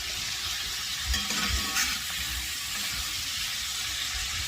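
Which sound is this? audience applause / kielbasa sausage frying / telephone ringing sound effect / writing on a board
kielbasa sausage frying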